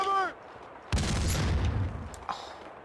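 Gunfire in the video game Max Payne 2 starts with a sudden heavy burst, then continues as a loud, rattling volley of shots that fades before a final sharp crack.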